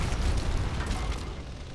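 A grenade bursts in a shooter video game with a short, loud, muffled boom and rumbling decay, no speech over it.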